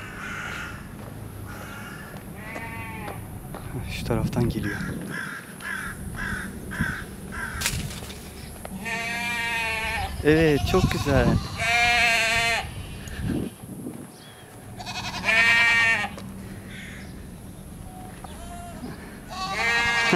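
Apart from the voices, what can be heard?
lambs or sheep bleating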